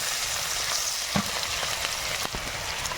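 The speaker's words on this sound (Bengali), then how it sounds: "রসুনটা একটু বেশি এটা একটু হালকা ভেজে নেব" Garlic and chopped onion with dried red chilli, whole cumin and bay leaf lightly frying in oil give a steady close sizzle, broken by a few sharp clicks of stirring.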